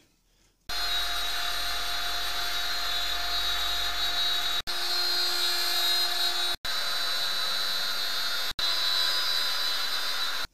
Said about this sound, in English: We've got the old router down here, this big old bit of kit.